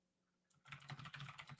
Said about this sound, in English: Sorry about the typing, guys. There's going to be typing.